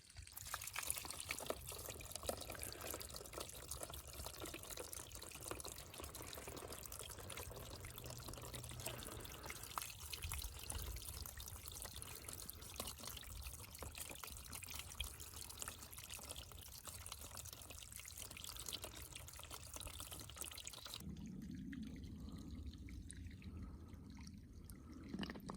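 Spring water beside the Pacific Crest Trail trickles and pours in a soft, continuous flow, close but quiet, and thins out toward the end.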